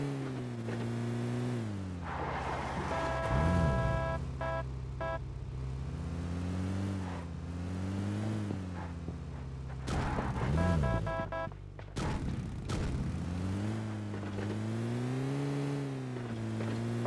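A car engine hums and revs steadily while driving in PUBG Mobile Lite, with pitch swells as it accelerates and a couple of brief crash-like thumps, alone without talk.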